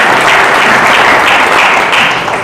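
Church congregation clapping to praise God, a loud, dense wash of many hands applauding continuously and close, with no speech over it.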